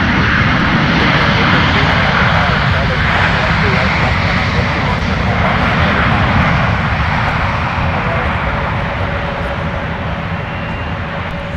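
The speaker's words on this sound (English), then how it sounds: "So we're going to go from hearing the sounds of those GE engines to the Trents." Airliner with GE jet engines at MSP airport giving a loud, steady broadband roar that slowly fades over several seconds, close by and continuous.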